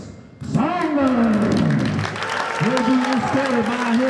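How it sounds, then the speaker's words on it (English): Crowd applause and cheering fill a high school wrestling senior night gym, steady and loud throughout, with a voice calling out and whooping over the clapping. "Let me get a big, big old round of applause for Curtis"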